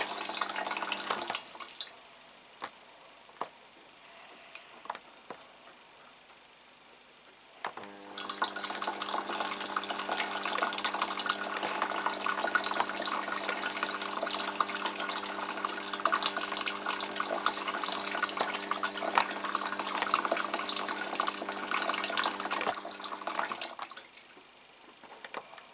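Small Tefal washing machine filling with water for its rinse cycle, a steady rushing and humming inflow that starts abruptly after a quieter stretch and runs for about fifteen seconds before cutting off.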